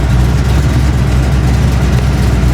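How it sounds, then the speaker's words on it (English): A loud car engine runs close up at high revs, a dense steady roar with throbbing low rumble and no talking. "Check out the revs on this thing."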